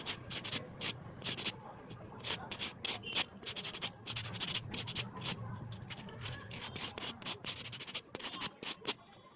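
A fingernail being buffed with a nail buffer during nail prep, giving quick rhythmic scratchy rubbing strokes, close and fairly quiet, continuing steadily with no talk over it.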